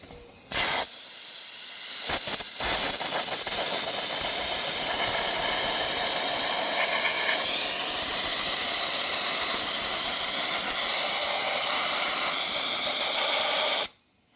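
An air compressor feeds a media blaster, giving a steady, loud, close hiss of blasting air that runs for about eleven seconds after a few short bursts, then cuts off sharply.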